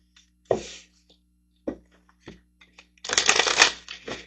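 Manifestation cards handled and shuffled at close range, with a few short separate riffles and taps followed by a denser, louder burst of shuffling near the end, no talking.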